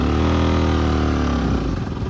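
A motorcycle rides a mountain road from Panchkhal toward Sailung, its engine droning loud and close with a steady mid-pitched hum that roughens and clatters toward the end.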